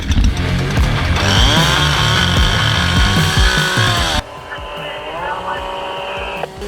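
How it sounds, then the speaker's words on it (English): Loud power saws roar continuously on a roof during firefighter ventilation training, engine pitch rising and wavering, then the noise drops abruptly to a quieter running level, with a voice briefly mixed in. "Saws running."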